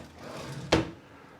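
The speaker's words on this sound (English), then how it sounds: "Lots of drawers in this chest." Drawer in a chest of drawers with starfish knobs in a resort studio room, a single quick wooden slide or knock, faint and close.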